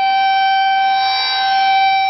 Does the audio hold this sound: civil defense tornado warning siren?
yes